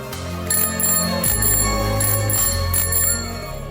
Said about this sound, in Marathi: सायकलची घंटी.